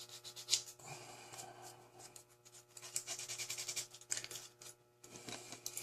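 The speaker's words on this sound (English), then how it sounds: "here I have to be careful when I'm sanding that." Steady scraping rasps of sanding on a small plastic model kit part near the sprue, coming in uneven bursts close up, with brief pauses between strokes.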